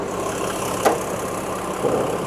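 A 1994 Mercedes S350 with the OM603 3.5-litre turbodiesel, 150 hp, idles steadily and close with a dull, even diesel clatter and one brief sharper tick.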